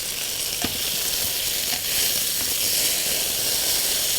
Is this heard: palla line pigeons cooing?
no